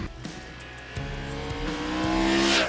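Triumph Tiger 1200 three-cylinder motorcycle engine from 2022, its firing order altered to feel twin-like low down, revving and rising steadily in pitch toward a loud, strained peak near the end.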